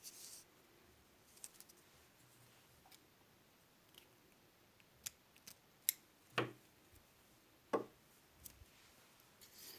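Quiet, crisp snips of small scissors cutting thread during needle lace work, a few scattered clicks followed by several distinct cuts close by with no talking.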